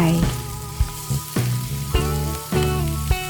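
Shrimp, squid and mussels stir-fried with vegetables in a wok for drunken seafood instant noodles, a close, loud sizzle punctuated by sharp metallic clangs of the spatula against the wok, with no talking.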